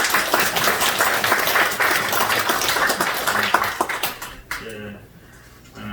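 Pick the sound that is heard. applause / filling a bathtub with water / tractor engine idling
applause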